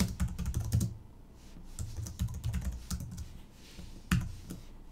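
Keys clatter on a computer keyboard in quick irregular bursts with short pauses, close and fairly quiet, as a message is typed into a Linux text editor.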